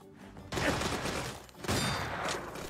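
Rifle and assault rifle gunfire in The Showdown Effect, a burst of rapid shots in two loud clusters, close and punchy with a short lull between.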